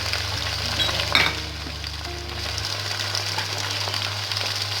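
Ginger garlic paste sizzles and fries in hot oil in a pot for Karachi-style biryani, a steady close crackling hiss with a brief stirring clatter partway through.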